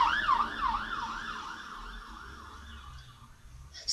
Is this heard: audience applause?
no